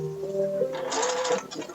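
Domestic sewing machine stitching wrap dress fabric, a steady mechanical whir that swells in the middle and then stops briefly, close and moderately loud with no talk over it.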